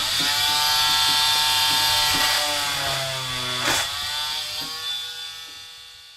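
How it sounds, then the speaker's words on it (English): An Einhell 10.8V cordless multi-function tool runs steadily at medium speed while cutting notches in wood, a loud continuous buzzing whine with slight pitch shifts and a brief bump as it bites, ending in a gradual fade. "Put it on a medium speed just so I've got control while I'm cutting the notches out."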